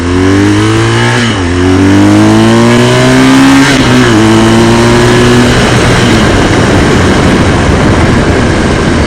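A 2015 BMW R1200GS motorcycle engine revs up close through a couple of gear changes, its pitch climbing and dropping with each shift, then fades into a steady rush of wind and road noise.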